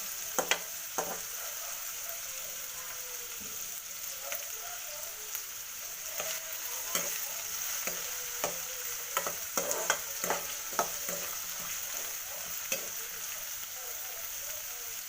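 Onions sizzle softly in a pan for raw banana palya while a spatula scrapes and clacks against the metal in irregular strokes, a continuous frying hiss underneath, no one speaking.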